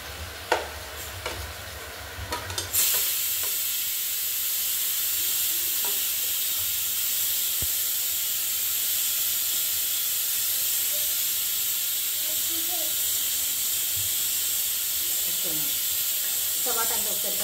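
Chopped tomatoes drop into a mutton curry with a burst of clatter, then a loud, steady hissing sizzle continues with occasional stirring scrapes.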